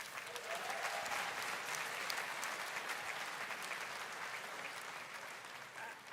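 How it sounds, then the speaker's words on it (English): A large conference audience applauds in a dense, steady clatter of many hands that carries on for several seconds and eases slightly at the end. "That deserves a round of applause."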